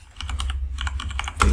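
Quick bursts of computer keyboard typing, close and crisp, as a folder name is entered, finishing with a louder keystroke.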